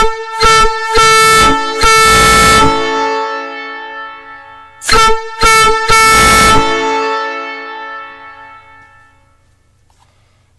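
Nathan Airchime P3 train horn fed by shop air through a rubber nozzle, loud and close, sounding in two groups of short and long chord blasts, the second group trailing off slowly into near silence.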